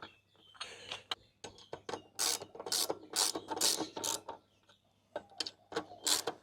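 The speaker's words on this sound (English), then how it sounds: "And then it's an 8mm socket to do them up." A hand ratchet with an 8mm socket tightening bolts while fitting a backrest on a Royal Enfield Super Meteor 650 motorcycle: bursts of rapid clicking strokes, close and fairly quiet, pausing between turns, no speech.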